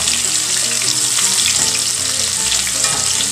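Shrimp for a po' boy sandwich fry in oil, giving a loud, dense, continuous sizzle and bubbling up close, with no voices.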